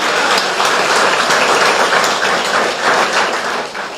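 Loud, sustained applause from a church congregation praising God, a continuous dense wash of hand claps that holds steady before easing slightly at the end.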